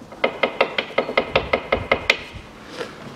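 The worn front ball joint pin of a 2006 Hyundai Accent 1.5 knocks about ten times in an even, rapid series of sharp metallic clacks close by, followed by a faint last tap.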